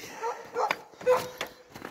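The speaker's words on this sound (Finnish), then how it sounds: "Koirilla on lysti." Excited dogs in spring yip, bark and whine in short close bursts, eager to go hunting, loud and uneven against a quiet outdoor background.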